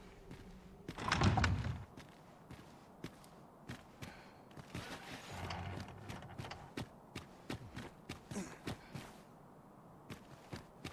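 Steady horse hoof clip-clops trot along at a moderate pace in the video game Dragon's Dogma 2, with a louder thump early on over a faint background.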